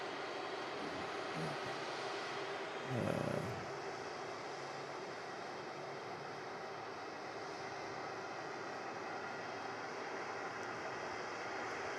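An EasyJet airliner at Manchester Airport rumbles as a steady, fairly faint jet roar, with a brief louder thump early on and no other clear sounds.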